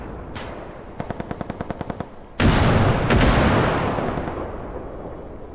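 A grenade blast in the video game BELLUM: a rapid burst of gunfire first, then a loud booming explosion that rolls on and slowly fades.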